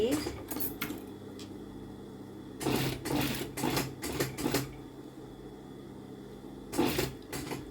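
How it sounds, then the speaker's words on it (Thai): Sewing machine stitching a folded fabric facing in short bursts of rapid mechanical chatter separated by pauses, close and fairly quiet, with someone talking softly at times. "แล้วเราก็เย็บ ประมาณหนึ่งตีนผี"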